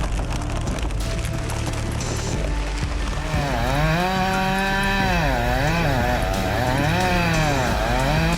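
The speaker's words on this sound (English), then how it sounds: "The Husqvarna 3120 XP chainsaw roared, the sound echoing through the forest." A Husqvarna 3120 XP chainsaw cutting a giant pine tree in a forest, roaring steadily and loudly throughout, its engine pitch sliding up and down repeatedly as it bogs into the wood and revs back up.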